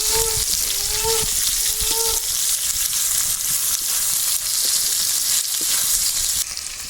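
Onion sizzles loudly in a pan with garlic paste, cooking for an egg curry. A continuous hiss of frying carries throughout, with brief speech early on and a few light stirring taps.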